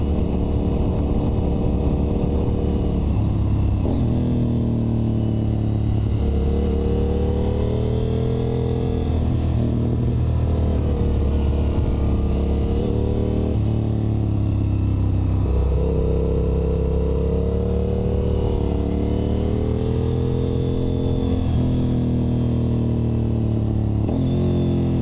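A Honda RC51 motorcycle being ridden produces a loud, continuous engine drone whose pitch climbs and drops repeatedly as it accelerates and eases off, sustained for the whole stretch without talk.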